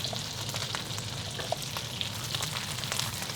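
Day-old rice frying in oil, a steady, dense sizzle with faint crackles throughout, close and continuous with no talking.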